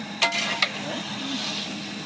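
Goat meat being sautéed in a pot, with a soft, steady sizzle running throughout and two sharp clinks of a spoon against the pot near the start.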